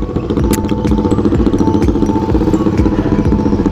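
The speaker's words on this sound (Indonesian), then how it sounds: "CB kali ini ya motor CB atau GL lah" A Honda CB motorcycle engine runs close by on a Jakarta street, a loud steady throbbing idle with rapid rhythmic pulsing and mechanical clatter.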